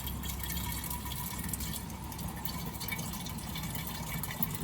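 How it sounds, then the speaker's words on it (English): Strained dandelion flower liquid pours gently into a glass jar, a steady soft trickle and splash running throughout. "now we will just strain it and gently pour it into the glass jar"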